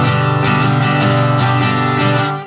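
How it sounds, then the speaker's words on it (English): An acoustic guitar strums the chords of a song in steady down-up strokes. The strums are full, bright and close, with no voice, and the last chord fades out. "Later in the song, he's just all strumming."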